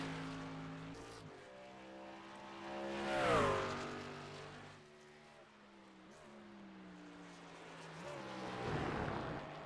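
A race truck engine roars around Watkins Glen in a racing video game, its harmonic drone shifting pitch through gear changes and rising to a loud peak mid-lap before easing and swelling again.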